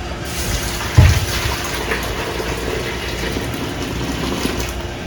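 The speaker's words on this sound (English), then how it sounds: "throw the water in there, throw a cover on there" Boiling water poured from a kettle into a pot of loose tea for brewing kombucha, a close splashing pour with a brief louder burst near the start, then a steady running fill.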